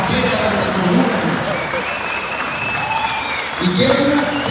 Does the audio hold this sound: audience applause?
yes